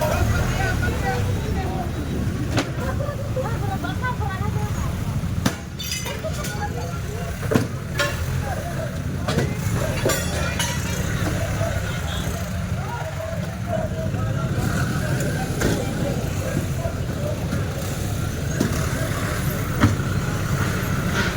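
Busy street traffic with many motorcycles in Balut, Tondo, a continuous rumble of passing engines with occasional knocks and bangs, voices talking over the din.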